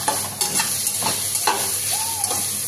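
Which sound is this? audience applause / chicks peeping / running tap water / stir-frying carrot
stir-frying carrot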